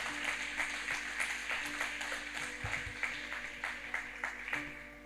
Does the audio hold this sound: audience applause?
yes